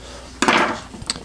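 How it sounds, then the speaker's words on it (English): An inexpensive Daiso galaxy-pattern kitchen knife chops on a cutting board: one sharp, close chop followed by a lighter tap, with no talking. "Let's try some chopping motion."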